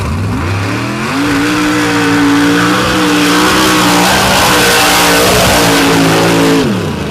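A racing truck at a drag-racing event accelerates hard down the track, its loud engine note climbing steadily through gear changes and staying close and dominant throughout before dropping away at the end.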